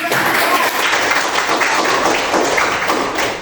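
A classroom full of people clapping steadily together, dense and continuous for a few seconds, with no voices over it.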